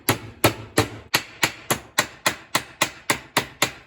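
Hammer striking copper pipe to form a battery terminal, twelve sharp metallic blows in steady rhythm, close and loud with no talking.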